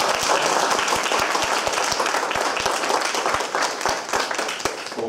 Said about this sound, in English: give a round of applause to Batel